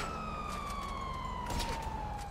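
Police siren in the Grand Theft Auto Online video game, a loud, steady wailing tone that glides slowly downward, with faint clatter behind it.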